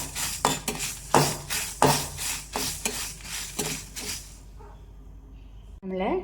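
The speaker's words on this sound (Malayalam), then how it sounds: "അതിനുശേഷം നമുക്ക് ഉലുവയും കടുകും ഡ്രൈ ഫ്രൈ ചെയ്യാം" Fenugreek and mustard seeds are dry fried in a pan, close scraping strokes of a spoon repeating in a quick rhythm for about four seconds before tapering off, with a short clatter at the end.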